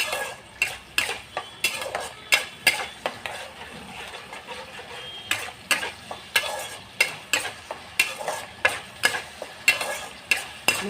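Spice masala is stirred in oil in a pan, with a quiet sizzle under a steady rhythm of sharp spatula scrapes and clinks against the metal, close up, with no talking.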